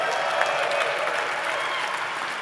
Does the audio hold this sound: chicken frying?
no